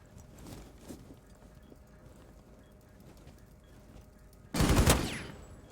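Gunfire in the video game Rainbow Six Siege: a few faint, distant shots early on, then one loud, close burst near the end, with no talk over it.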